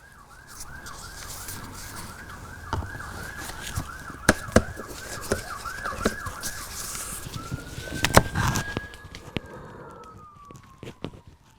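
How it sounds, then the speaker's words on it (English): A faint siren wails in a rapid repeating yelp, then shifts to a long sustained tone, heard amid light clicks and knocks nearby. "whilst we listen to the distant siren"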